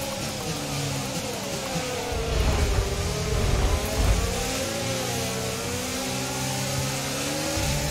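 A Formula 1 car is played in F1 22 in VR, and a continuous engine whine holds steady at first, then its pitch sweeps down and back up as the car brakes and accelerates again, staying loud and close throughout with no talk over it.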